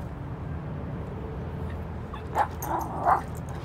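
Dogs whimper and give two short, high yips close by, breaking through a steady low background hum late in the moment, with no talking.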